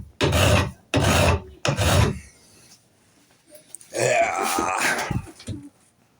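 A flat file rasps along the edges of a hidden tang knife: three close, loud strokes, a pause, then a longer filing pass.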